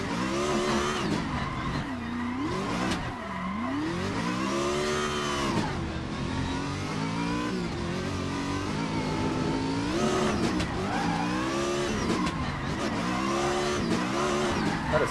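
RTR Mustang race car in Assetto Corsa, a racing game, its engine revving hard and continuously with rising and falling pitch through gear changes, tires squealing as the car slides, loud and close throughout.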